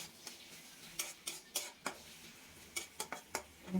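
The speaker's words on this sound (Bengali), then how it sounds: "তারপর খুন্তি দিয়ে একটু নেড়ে নেব।" Bitter gourd frying with onion and green chilli in oil is stirred with a metal spatula, giving a dozen or so sharp, fairly faint clinks and scrapes at irregular intervals over a quiet, low sizzle.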